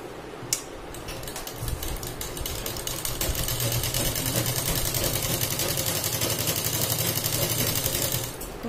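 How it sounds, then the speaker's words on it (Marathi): A sewing machine stitches pant pieces together in a steady, fast mechanical chatter that runs continuously at close range, opening and closing with a sharp click. "आपण इथे शिलाई लावून व्यवस्थित मॅच करून घेऊया।"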